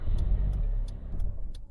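A damaged car engine in a video game runs loud and rough with a steady low rumble, while faint regular ticking pulses recur throughout.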